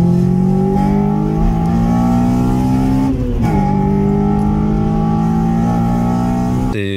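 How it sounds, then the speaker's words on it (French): A Honda K20 four-cylinder engine in a Honda CR-V revs hard and steadily, its pitch climbing, dipping briefly, then climbing again, loud and close, before cutting off abruptly. "c'est un très bon moteur le K20"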